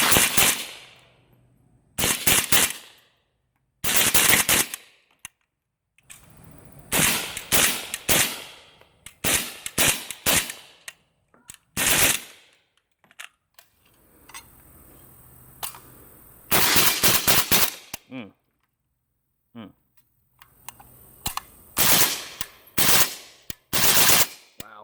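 A suppressed AK47 fires subsonic ammunition in a shooting match, with rapid bursts of sharp, muffled cracks coming in repeated strings separated by short pauses, close and loud.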